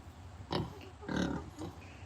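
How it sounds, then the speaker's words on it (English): Three close, rough grunts in a row from pet pigs, the middle one longest and loudest, over a low background hum. "They're very good pet pigs."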